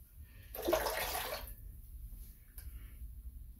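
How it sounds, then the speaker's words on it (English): A finger swirled through water in a bathroom sink rinses off vegan shaving lather, giving a brief close splash and slosh followed by faint drips and trickles in a quiet room. "a quick little swirl of the finger into the water in the sink, the lather easily rinses off"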